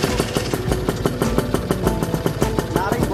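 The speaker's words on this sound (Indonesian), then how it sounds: "kita dengar suaranya nih dari Aprilia 2 tak" An Aprilia RS 125 two-stroke motorcycle engine idles close by with a rapid, uneven popping rhythm and a brief blip of throttle near the end.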